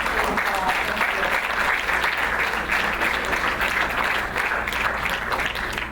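An audience at a film screening and panel event claps in sustained, dense applause that holds steady throughout, close and loud, with no gaps.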